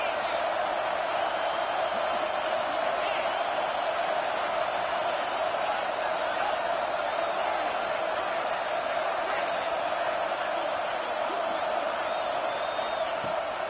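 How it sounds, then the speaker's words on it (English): Constant stadium crowd roar in a football video game on PS5, a thick, even wash of many voices sustained throughout at moderate level. "This crowd bringing the energy and noise early."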